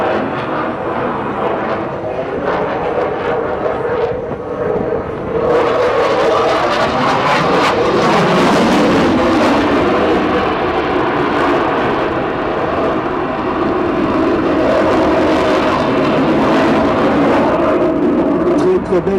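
A Dassault Rafale fighter jet flying aerobatic loops at an air show roars continuously and loudly for the whole stretch, its jet noise rising and shifting as it climbs and circles, while a commentator talks over it.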